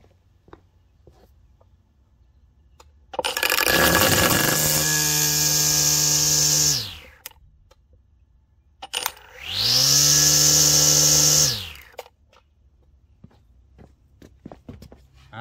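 PowerSmart 40V cordless brush cutter with its string fed out, spinning up twice in two bursts of a few seconds each, loud high-pitched whine rising and falling away, with faint outdoor background between runs.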